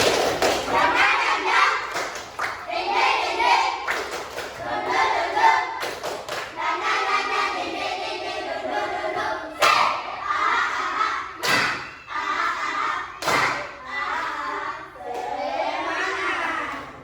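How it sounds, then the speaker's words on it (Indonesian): A class of children in a school classroom performs a rhythmic spirit clap (tepuk semangat), sharp group claps landing in a steady pattern between bursts of loud chanted voices, with a teacher's voice nearby. "kasih tepuk tangan buat kelompok 3"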